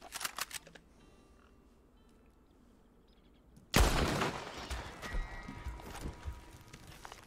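A gunshot bursts out suddenly after a quiet stretch in Red Dead Online, a loud, sharp crack followed by a rumbling tail of echo and scattered clatter that fades slowly.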